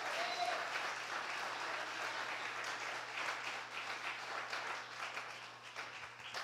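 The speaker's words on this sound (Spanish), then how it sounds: "Si le va a dar ese aplauso a Dios, déselo con más fuerza." A church congregation claps together in steady, dense applause, moderately loud and sustained throughout with no break, filling the room with a continuous wash of hand claps.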